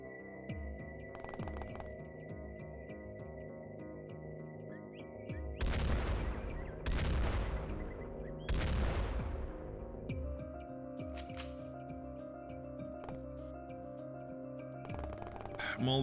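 SMG gunfire in the X-COM video game, aimed at armored drones: several short bursts of rapid shots rise over a steady electronic hum and music bed.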